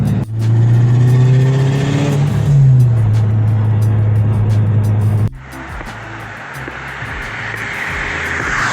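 A freshly rebuilt motorsport-tuned Subaru Impreza WRX Prodrive engine holds a loud steady rev near by, dips, then abruptly cuts to a rougher, quieter idle with hissy background, no talk.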